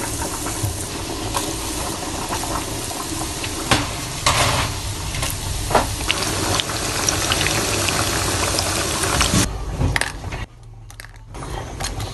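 Squid rings for calamares frying in hot oil, a dense, steady sizzle and bubbling that runs loud and unbroken for about ten seconds, then drops off abruptly near the end.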